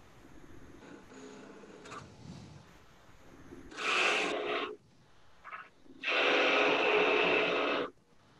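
Rough edges on a small turned wooden pet urn are smoothed, giving two distinct bursts of close, hissing abrasion against otherwise quiet room tone.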